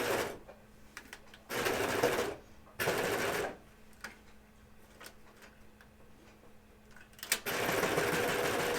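A sewing machine stitches a ribbing waistband onto pants in three or four short, loud bursts of rapid stitching, separated by quiet gaps with faint ticking and handling sounds.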